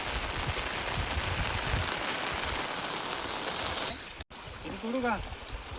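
Heavy rain falling in a village during a crab-catching outing, a steady dense hiss of downpour close by for most of the stretch, then a brief dropout followed by quieter rain with a voice speaking.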